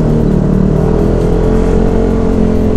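Loud, steady engine drone from a Yamaha NMAX scooter fitted with a racing exhaust, heard close up during a test ride, a constant rumbling hum without pauses or voices.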